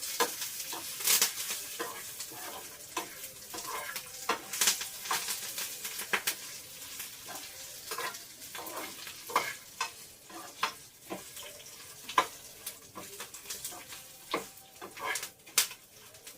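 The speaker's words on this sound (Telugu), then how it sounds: "మనం తీసుకున్న పల్లీలు, ఎండుమిర్చి, కరివేపాకు, ధనియాలు, జీలకర్ర అవన్నీ వేసుకుని ఇలాగ సిమ్లో పెట్టుకుని వేయించుకోవాలి" Peanuts, dried red chilies, curry leaves, coriander seeds and cumin roasting in oil on a low flame for curry leaf chutney, a steady crackling sizzle broken by frequent scraping stirs, close and without speech.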